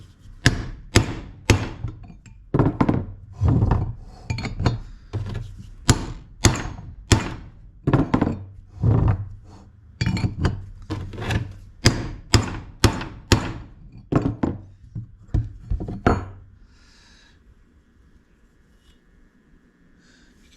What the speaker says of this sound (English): We're gonna put our chisel right on that lip and hammer.